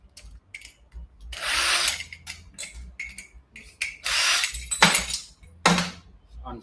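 Short bursts of a small power driver unscrewing a screw on scrap electrical gear, whirring on and off in uneven spurts with clicks and handling noise between, close by.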